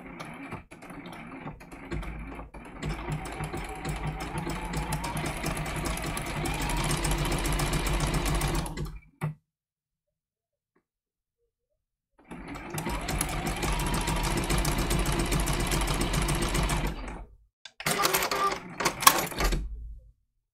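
A sewing machine test-stitches on fabric scraps in two long, steady runs separated by a silent pause, ending with a few short, choppy bursts and mechanical clicks.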